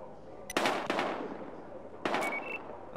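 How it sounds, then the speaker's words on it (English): Gunfire in the video game Battlefield Hardline: three sharp, loud bursts of shots, with a short pair near the start and another burst a second later, over a steady background of game ambience. "We've got gunshots."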